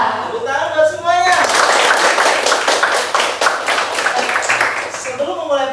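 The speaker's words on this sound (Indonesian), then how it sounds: "Tepuk tangan buat semuanya." Children in a classroom clap in a quick, steady rhythm for several seconds, with a single voice speaking briefly before and after the clapping.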